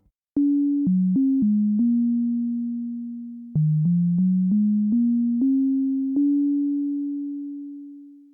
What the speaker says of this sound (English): A nice sine wave oscillator.